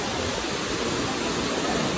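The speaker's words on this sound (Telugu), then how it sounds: "మీరు చూడొచ్చు ఇక్కడ వాటర్ ఫాల్స్." Hogenakkal waterfalls pour in a steady, dense roar of falling water, broadband and continuous without a break, close and loud.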